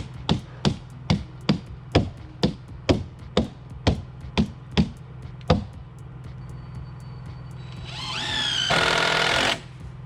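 Sharp hammer blows while building a floating dock, about a dozen evenly spaced hits in a steady rhythm, close and loud, followed by a brief burst of noisy clatter.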